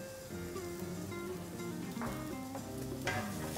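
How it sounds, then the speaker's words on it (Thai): Mushrooms with carrot stir-fry in a pan, seasoned with salt, mushroom seasoning powder and ground white pepper; a low steady sizzle runs throughout with a couple of brief scraping stirs near the end. "ผัด"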